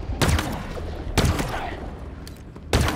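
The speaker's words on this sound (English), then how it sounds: "Stalker rifle." Stalker rifle shots in Halo Infinite, three loud sharp blasts spaced about a second apart, each with a short booming tail and faint game sounds between.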